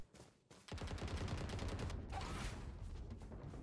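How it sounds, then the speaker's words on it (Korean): Rapid automatic gunfire rattles in the Valorant video game as a dense, loud, sustained burst of shots after a brief pause, with nearby overlapping weapons. "엄청나 쏜다 사람들이."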